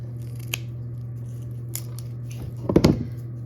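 A dahlia tuber clump is cut in half with a blade, giving a few faint snips and then a louder crunchy, squishy cut near the end over a steady low hum.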